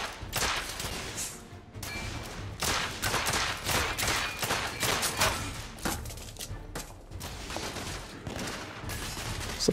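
Rapid gunfire from the video game The Order: 1886, played on hard difficulty: dense, overlapping shots crackle in repeated volleys throughout, loud and close.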